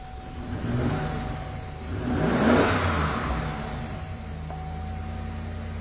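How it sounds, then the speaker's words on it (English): A car with a crank-no-start fault catches and revs up once, the engine swelling to a peak and then settling into a steady idle with a faint whine, close and without talk. "This car is going to start."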